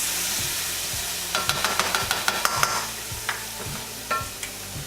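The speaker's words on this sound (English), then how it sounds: "The pan's hot, so it really wanted some chili sauce." Chili sauce hitting a hot pan with seitan, a loud bright sizzle with a quick run of utensil taps and scrapes, close up and without talk.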